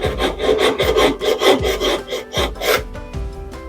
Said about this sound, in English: tiny piece of sandpaper strip.